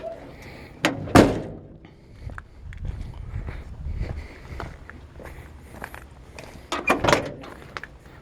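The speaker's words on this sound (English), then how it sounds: "Doors open and close nice and easy." Doors of a 1966 Ford F100 pickup truck, with a solid metallic slam near the start and another clunk near the end, soft handling noises and shuffling between them, close by and with no talk.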